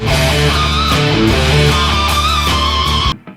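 The next electric guitar phrase from a guitar solo in D pentatonic minor, loud overdriven notes moving in quick steps and ringing steadily before cutting off abruptly near the end.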